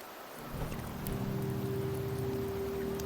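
Steady rain falling in Septimont in the video game Wuthering Waves, a dense soft hiss rising in the first half second and then holding evenly, with a low hum underneath.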